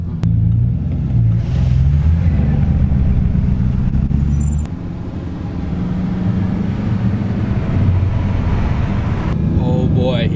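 Sports cars, a Koenigsegg Agera and a Bugatti Chiron, rumble and roar loudly close by on a road, steady engine noise throughout with a brief dip midway, with people talking over it.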